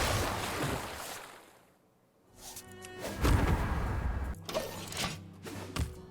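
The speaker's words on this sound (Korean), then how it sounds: "넌 끝없는 파도에 휩쓸게되" Ocean waves from the Hearthstone video game surge and break in swelling washes, fading to near quiet before rising again in louder, rolling crashes.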